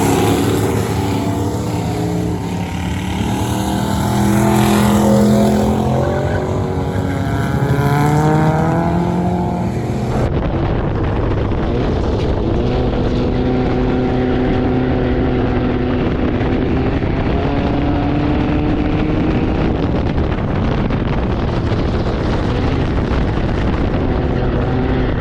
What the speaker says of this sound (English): It almost sounds like the transmission slipping. Or maybe it's just getting in the power band.